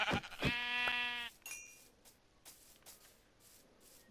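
Sheep bleating in the video game Minecraft: one loud, close, wavering bleat near the start, then soft scattered game sounds with no talking.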